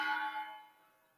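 A single bell strike rings out at the start and decays over about a second with a long, fading tail, heard alone without talk during a treatment court graduation ceremony.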